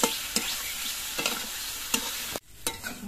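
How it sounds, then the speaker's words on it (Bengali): Potatoes are sautéed in a pan with a ground paste of spices and green chilli, giving a steady sizzle under repeated sharp spatula strokes. A brief drop in sound is followed by more stirring. "এবার সব কিছু দিয়ে আলুটাকে আরো কিছুক্ষণ কষিয়ে নেব।"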